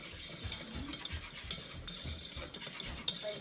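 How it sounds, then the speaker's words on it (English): A roux for Southern mac and cheese being stirred in a pan on the stove, a steady scraping and swishing of a utensil against the pan with soft sizzling and occasional light clinks. "It's so easy to burn a roux, so you have to stand by it."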